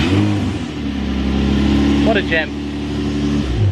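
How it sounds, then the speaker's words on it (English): A Nissan 350Z idles with a steady low engine hum and a brief rev building in the middle before settling back, close and loud, while someone talks over it. "he's going to do it again just to show that it actually starts"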